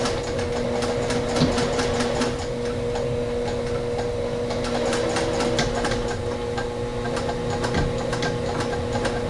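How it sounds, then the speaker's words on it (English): A sewing machine runs steadily, stitching along the top and bottom edges of a simple garment piece at a 3/8-inch seam, with a continuous close mechanical hum and rapid repetitive clatter throughout. "first step is to go ahead and sew the top and bottom edge"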